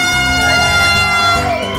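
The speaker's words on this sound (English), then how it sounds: "Wait for the air horn." A single loud, sustained air horn blast at a kids' ribbon-cutting ceremony in Leesburg, a harsh brassy tone held for about two seconds, close and dominant over a faint crowd.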